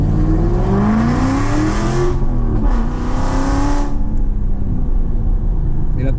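Aston Martin V8 Vantage engine revving loud and close, pitch climbing and falling through several sustained high-rev pulls with a steady roaring drone throughout.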